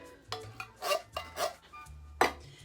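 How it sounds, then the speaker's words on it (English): A spoon stirs and scrapes through cream of mushroom soup in a bowl while a crockpot chicken and stuffing dish is being mixed. Several soft, close scraping strokes come in an uneven rhythm, with no talking. "What I'm going to do is I'm going to mix the cream of mushroom soup."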